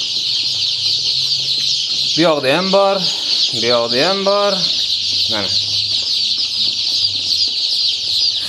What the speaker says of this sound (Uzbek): Hammasi Andijon qora jo'jalar do'stlar.